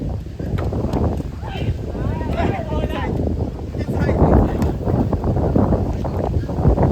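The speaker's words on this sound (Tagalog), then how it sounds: "Hangin" Gusty wind buffets the microphone with low rumbling blasts at a beach volleyball tournament, while people talk over it.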